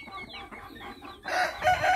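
A Tích Phật Hầu Bò rooster clucks softly in short repeated notes, then breaks into a loud, close crow that carries to the end.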